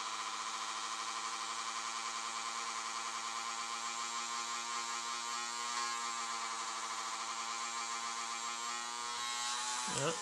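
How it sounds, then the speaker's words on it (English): Dremel rotary tool running at its lowest speed while polishing a scratched 360 camera lens, a steady, close, high-pitched electric whine that holds constant before cutting off at the end. "Okay, just a bit more with the Dremel."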